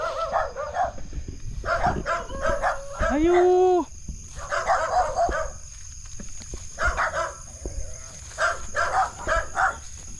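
Several dogs bark in repeated clusters nearby on a hike to Mt. Naupa Peak in Naga, Cebu, with one drawn-out howl-like yelp in between and a person's voice briefly heard.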